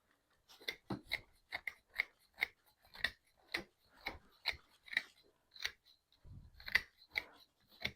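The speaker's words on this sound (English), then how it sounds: "So this part you usually cut back." Bonsai shears snip through roots of a juniper being repotted, a crisp, close series of about fifteen sharp clicks at a steady, unhurried rhythm in an otherwise quiet room.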